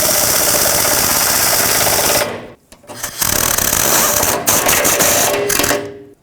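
A power tool whirs and rattles loudly at close range while bolting the drive shaft shield back onto a 2008-2010 Ford F-250. It cuts out briefly in the middle, then runs again in short bursts before stopping.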